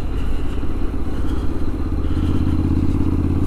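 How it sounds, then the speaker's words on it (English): Honda CTX motorcycle rolling over a series of speed bumps, its steady low engine drone joined by soft thuds and faint clatter from the suspension, recorded close and continuous throughout. "now we're gonna find out how it does going over some speed bumps."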